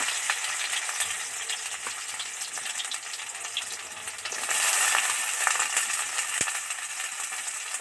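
Chopped onions hit hot oil in a wok and fry with a steady close sizzle and crackle, swelling louder midway, with a few soft clinks of stirring and no voices.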